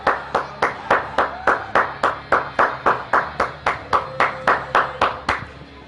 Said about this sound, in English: give Tyrone a round of applause for winning the Heel of the Year